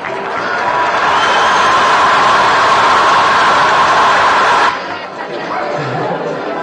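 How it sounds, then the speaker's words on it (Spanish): Applause and cheering from a live radio studio audience for an accordionist, a dense steady roar of clapping that cuts off abruptly, with a brief murmur afterward. "Fuerte aplauso para Zul."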